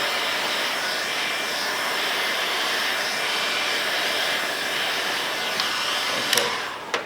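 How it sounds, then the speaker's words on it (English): Air blown in repeated passes under automotive window film during dry shrinking, a steady loud hiss like a heat gun or blower running continuously near the microphone, with a couple of sharp clicks near the end. "I'm going to just blow some air under, come back, blow some air under, come back"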